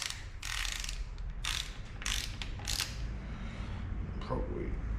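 A ratchet tightens a bolt on a custom alternator relocation bracket in an Ecojet build. Several loud, close bursts of ratcheting clicks are set against a steady background hum.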